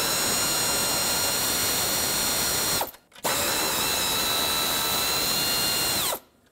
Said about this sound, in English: Use an 8 millimeter socket and remove both of the retaining bolts